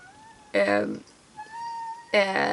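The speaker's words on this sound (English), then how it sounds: "Sorry if you can hear my cats, they are having adventures right now." House cats meow indoors, loud and close, with two long meows separated by a pause, while someone speaks quietly in the background.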